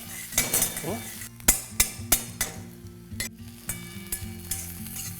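Potatoes fry in a pan for a home-style bhindi (okra) sabzi, giving a steady sizzle broken by sharp clinks and knocks of a spoon against the pan.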